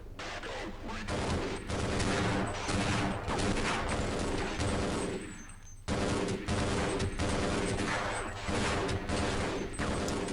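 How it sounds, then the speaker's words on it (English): A tank fires in the video game Half-Life: Blue Shift: a loud, continuous barrage of booming shots and rapid gunfire that dips briefly midway, then resumes at full intensity. "A little worried because that tank is firing at me."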